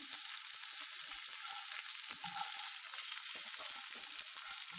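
Prawns frying golden brown in oil in a pan, a dense continuous sizzle with a bright hissing texture, steady and close with no talking.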